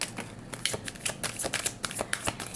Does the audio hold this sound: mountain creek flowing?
no